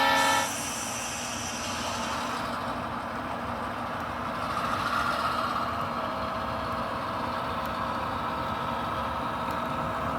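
Rail cars being shoved by a locomotive during yard switching, a steady low rumble with a sustained tonal drone and faint wheel clatter, continuous at moderate level with no talk.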